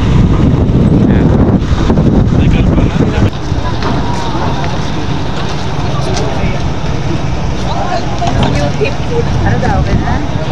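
Strong wind buffets the microphone in loud, rough gusts over a low vehicle and traffic rumble, while people talk underneath.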